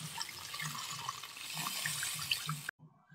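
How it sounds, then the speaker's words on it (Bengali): Water poured generously into a cooking pot while making a vegetarian pumpkin dish, a steady splashing stream that runs close and fairly loud before stopping abruptly, followed by a brief quieter trickle. "এবার ফাইনাল জলটা আমি দিয়ে দেব বেশি করে জল"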